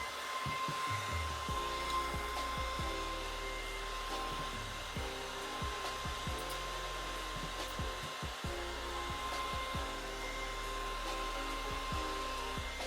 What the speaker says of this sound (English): Go back with the blow dryer,